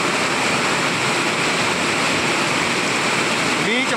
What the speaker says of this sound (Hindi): इन्ना मीह आ फैक्ट्री आ टिकरी वाली आ देखो मीह दी रफ्तार इदा चलदी जिदा मोटर चलदियां होंदियां